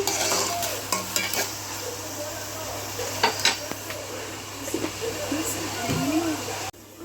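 Onions and tomatoes with salt sizzle and fry in a pan, a steady hiss close by, punctuated by stirring and utensil scrapes against the pan.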